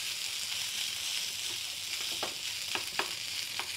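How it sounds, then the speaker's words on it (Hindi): Net roll filling with salt fries in a pan, giving a steady soft sizzle with a few faint scrapes of stirring. "अब इसको थोड़ा सा भुनने देती हूँ"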